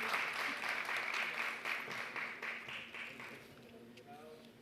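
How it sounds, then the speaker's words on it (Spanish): Sustained audience applause at a public security seminar on organized crime in Latin America, a dense patter of many hands that slowly fades, with voices talking underneath. "Un fuerte aplauso entonces para la entrega de esta copia entonces."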